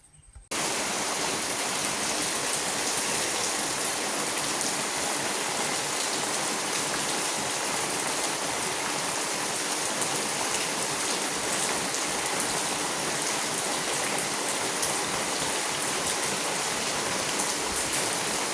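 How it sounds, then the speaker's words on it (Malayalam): Steady rain falling outdoors in Kerala, a dense, even hiss of drops that starts abruptly and continues unbroken at constant loudness throughout, with no voices. "നമ്മൾ മഴ പെയ്യുന്നതൊന്ന് വീഡിയോ എടുത്തതാണ്."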